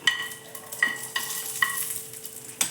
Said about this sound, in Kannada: ಒಂದು ಮೂರು ಹಸಿಮೆಣಸಿನ್ಕಾಯಿ ತಗೊಂಡಿದ್ದೀನಿ ಮೂರಿಂದ ನಾಲ್ಕು ಒಂದೇ ಒಂದು ಸ್ವಲ್ಪ ಎಣ್ಣೆ ಹಾಕಿ ಅದನ್ನು ಹುರ್ಕೋಬೇಕು